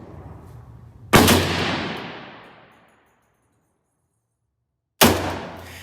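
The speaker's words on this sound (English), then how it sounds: "Here's a little quick video of the zeroing of the 45." Two loud .45 pistol gunshots while zeroing at an outdoor range, each a sharp blast with a long fading boom, about four seconds apart, with faint background noise before the first.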